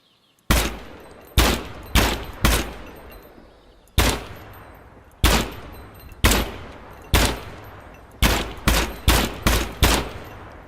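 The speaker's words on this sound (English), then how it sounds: "A little mag dump." An AKM rifle in Gunsmith Simulator fires a rapid magazine dump: about fifteen loud, sharp shots in uneven bursts and pairs, each leaving a short decaying tail, with no talking.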